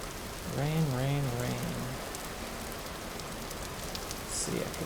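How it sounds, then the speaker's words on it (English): Rain in the video game Vintage Story patters steadily as a constant hiss of drops on surfaces, with someone speaking briefly over it near the start. "So now for the rain."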